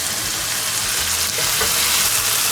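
Tomatoes are added to hot oil in a pan and fry with a loud, steady sizzle and crackle, close up and continuous throughout, with no talking.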